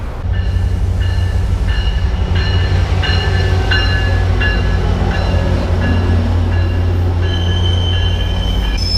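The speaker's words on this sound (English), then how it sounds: "That's my train." A Metrolink commuter train rolls into a station on the Riverside line, steady loud wheel rumble with repeated high metallic squeals from the rails, heard close up with no talking.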